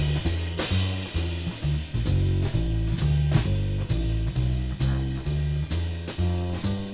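A jazz backing track with piano, bass and drums repeats a short looping bridge section of a rhythm changes tune, rhythmic comping and cymbal hits at a moderate, steady level.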